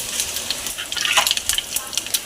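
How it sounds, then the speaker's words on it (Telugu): Spices such as cumin, mustard seeds and chillies crackle and sizzle in hot oil as tempering for rasam, a dense, steady frying hiss with sharp popping spatters, close and loud. "తర్వాత ఇంట్లోకి వచ్చి తాలింపు వేసుకుంటున్నాను చారుకి"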